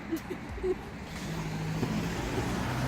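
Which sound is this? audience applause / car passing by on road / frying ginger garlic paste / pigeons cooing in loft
car passing by on road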